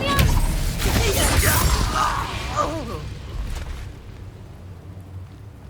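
A burst of the Incendio fire spell from Hogwarts Legacy: a loud whooshing, crackling flare with sizzling pops up front, then fading into lower ambient rumble by the end.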